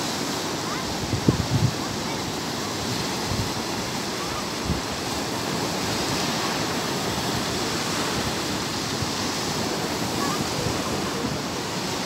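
Ocean surf at a Zambales surfing beach, with waves breaking in a steady wash of broadband roar that stays fairly even and distant-sounding for the whole stretch, a few faint knocks near the start.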